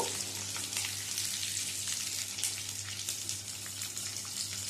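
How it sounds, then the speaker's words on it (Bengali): Onion petals stir-fry in a pan for a chilli paneer potato-ball dish, giving a steady, close sizzle with soft crackling and faint stirring throughout, with no voices. "পেঁয়াজের পাপড়িগুলো দিয়েও নেড়ে ছেড়ে নেব"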